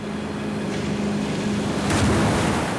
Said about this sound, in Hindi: हम सीधे उस रीफ की तरफ जा रहे हैं। लहरें बहुत ऊंची हैं